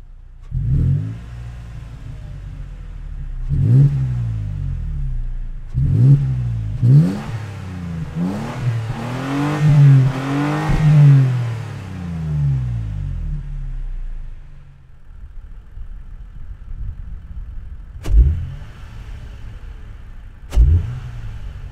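A 2020 Toyota Tacoma TRD Pro revs through its TRD exhaust: several sharp blips, then a long climbing and falling rev held for a few seconds, followed by two more quick blips, loud and close.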